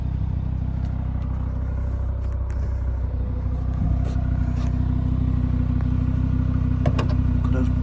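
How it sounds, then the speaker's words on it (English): An Audi RSQ3 Vorsprung in RS mode 1 idles with a steady, low rumble from its exhaust tips, recorded close and continuous with faint clatter. "So that is the car on idle."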